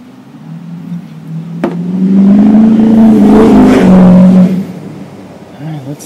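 Kohler Magnum 8 engine on a Troy-Bilt Horse tiller being diagnosed for a fuel pump problem. After a sharp click it cranks, catches and runs with a loud steady drone for about two seconds, then dies away.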